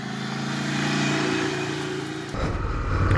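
Engine of a 2017 Ducati Scrambler Desert Sled, an 803 cc L-twin motorcycle, steady and close, swelling into harder acceleration with a rougher, louder low growl in the final second.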